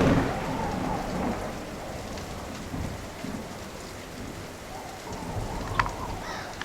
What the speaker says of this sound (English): It is storming pretty good out there.